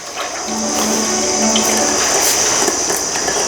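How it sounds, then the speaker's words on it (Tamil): About ten litres of cold-pressed coconut oil pours in a continuous, splashing stream, loud and close, holding steady for several seconds without voices. "இந்த தேங்காய் எண்ணெய் ஒரு 10 லிட்டர் ஊற்றிக்கலாம்."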